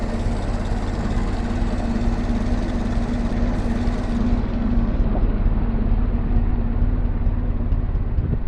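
A Ford Model T engine runs on its magneto at a steady idle nearby, a continuous low rumble with an even, unchanging hum throughout and no voices.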